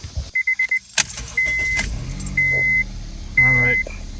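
A 2006-2011 Honda Civic engine cranks and starts after a power steering pump replacement, with electronic chimes and a key jingle, then settles into a steady close idle.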